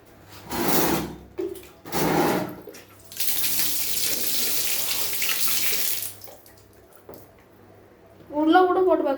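A sports watch is dropped into water to test its waterproofing, giving a few seconds of steady splashing and rushing water between stretches of speech.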